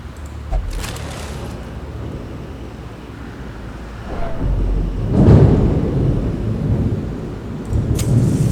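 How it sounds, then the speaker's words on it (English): Distant rolling thunder from a rainstorm outside, a low broad rumble that swells around the middle and again near the end over a steady background hiss of rain. "It's raining outside, by the way, so you'll hear some thunder sometimes."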